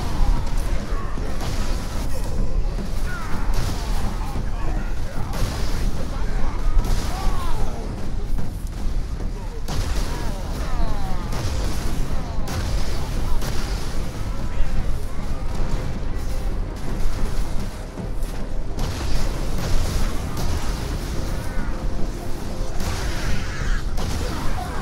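Plasma gun shots and explosions in the co-op game Space Marine 40k, a loud, dense barrage of booms, blasts and whooshes throughout, with a voice talking over it.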